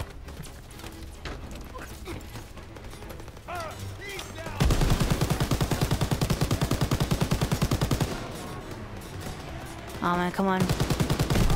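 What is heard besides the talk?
half-track machine gun fire in Call of Duty WW2 video game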